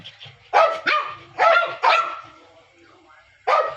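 A mother dog barks in five sharp, close barks, spaced irregularly with short gaps between them, and one or two faint yips come between the barks.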